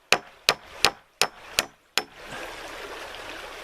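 Six sharp hammer blows land at a steady, slightly irregular pace as framing nails are driven into wooden joists of a tent platform, followed by a low wash of background noise.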